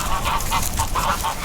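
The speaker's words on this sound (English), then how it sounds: "as soon as I get out here around the geese, it's really going to get loud" Loud, steady honking from a flock of geese nearby, overlapping calls repeating rapidly with no pause.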